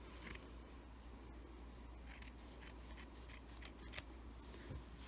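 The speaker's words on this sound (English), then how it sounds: "cutting both pieces at one time." Scissors cutting through two layers of cotton fat-quarter fabric at once for a face mask, giving a series of crisp snips in an uneven rhythm, very quiet and close over a low steady hum, with no talking.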